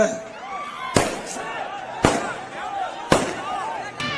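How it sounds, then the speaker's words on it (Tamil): Three sharp firecracker bangs burst at roughly one-second intervals, loud and close, over a steady murmur of crowd noise and distant voices. "தம்பி எதுக்குப்பா பட்டாசு வைக்கிறீங்கப்பா"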